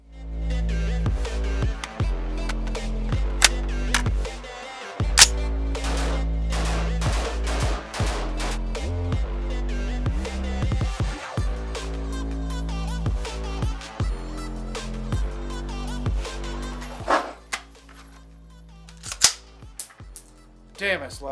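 A rifle with a binary trigger fires rapid, sharp, very loud shots in quick pairs and bursts, with brief pauses between strings, close up and outdoors.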